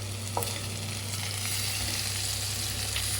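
Green chilli and ginger fry steadily in a pan for paneer masala, a continuous close sizzle with light stirring scrapes and no voices.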